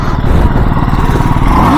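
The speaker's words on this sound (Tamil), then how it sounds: "எக்ஸாஸ்ட் நோட் பார்த்தீங்களா" BMW G 310 motorcycle exhaust note, a steady, loud, close engine drone with even low pulsing throughout the short stretch and no audible talk.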